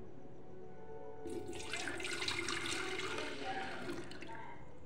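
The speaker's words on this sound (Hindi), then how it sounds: "तो सबसे पहले हम डालेंगे इस पर दूध।" Milk poured into an electric kettle that is switched off, a steady liquid splash and trickle starting after a moment and running on at moderate loudness with no talk.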